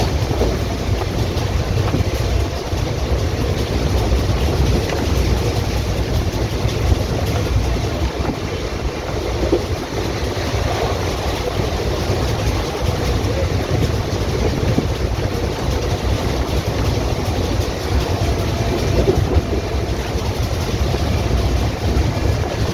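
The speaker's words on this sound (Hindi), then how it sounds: "अब हमारी ट्रेन थोड़ी ही देर में मलिहाबाद के बाद दिलावर नगर स्टेशन को स्किप कर रही है।" The Rajya Rani Superfast Special rolls from Lucknow toward Hardoi past Malihabad, giving a continuous loud rumble with wind noise for the whole stretch, and no voices.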